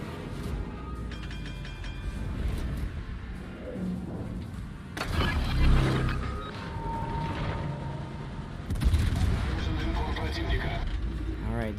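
Naval gunfire from a Tier 10 Russian cruiser battle in World of Warships, with two heavy booming salvos standing out over continuous engine and ambient game noise while a commentator talks throughout.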